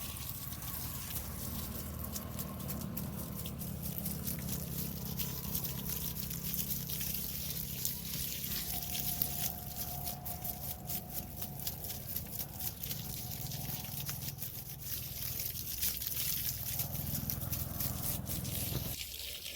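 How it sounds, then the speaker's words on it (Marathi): Steady running water splashes and trickles continuously while watering grapevines in a vineyard, against a low background hum, with a few faint drips, and no voices. "असं आपण पाणी झाडांना देऊन घेऊया"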